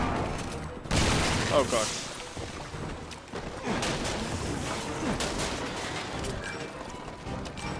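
Shotgun fire in the Resident Evil 6 video game: several loud, booming blasts among dense combat noise, with a player's voice briefly speaking over the action.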